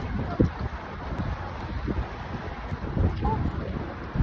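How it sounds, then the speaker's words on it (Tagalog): Wind buffets the microphone in a steady low rumble, with gusty bumps and faint voices in the background. "Tapos ang hangin pati mainit."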